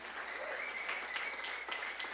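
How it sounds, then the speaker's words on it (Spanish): Church congregation applauding together after a sermon line, a steady dense wash of many hands clapping at moderate distance, even in level throughout with no voices standing out. "Denle un aplauso al Señor, amén"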